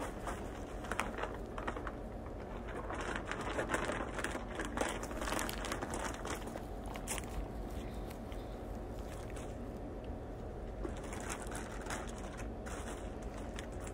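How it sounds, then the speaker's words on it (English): Miracle-Gro container mix poured from the bag onto soil spread on a tarp outdoors: a continuous soft rustling, crinkling and pattering at low level, close and uneven, with no voices. "I'm going to be putting my container mix, my Miracle-Gro, which I'm going to use half of the bag"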